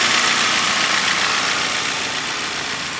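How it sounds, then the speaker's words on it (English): A car engine idles steadily up close, a constant mid-pitched hum with a slight rough knock, no voices. "the car is running. It actually sounds pretty darn healthy"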